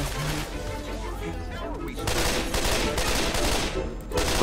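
Dense bursts of rapid gunfire in the co-op zombie shooter Left 4 Dead, loud overlapping automatic shots that swell and dip across the clip.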